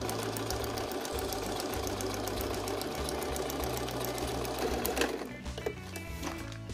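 A sewing machine runs steadily, stitching an L-shaped seam on a folded tarp bag, its motor whirring close and continuous for most of the stretch before easing off near the end.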